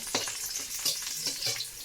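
Crushed garlic fries in a pan over low heat, a light, crackling sizzle with small pops and stirring scrapes through a short stretch.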